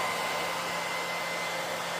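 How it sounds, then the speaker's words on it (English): A hair dryer blows steadily on styled hair during a short-cut wig install, a constant close-up airy roar with a faint motor hum underneath, no voices. "and just blow dry"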